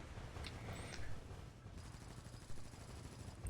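Ship's gun on Prinz Adalbert firing in Azur Lane: quiet, dense, continuous game gunfire with a rough, crackling rumble and no clearly separated shots.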